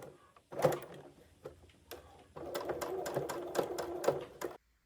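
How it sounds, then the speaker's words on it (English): A sewing machine stitches around a quilted, padded laptop sleeve panel at its longest stitch length, close to the edge, in bursts of rapid mechanical ticking with short pauses between runs, near and moderately loud. "I'm sewing about 3 to 5 millimeters from the edge, using the longest stitch length on my machine."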